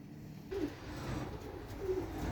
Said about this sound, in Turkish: Şimdi yemleyelim kuşlarımızı.